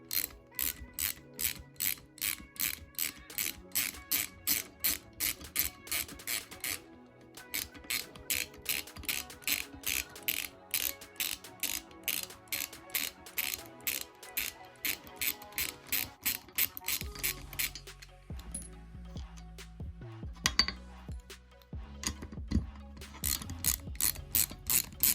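A ratchet spanner clicks in fast, regular bursts while undoing the 13mm bolts that hold the damper on a Mini Cooper S R53 belt tensioner, close and fairly quiet, with short pauses and some metallic handling near the end.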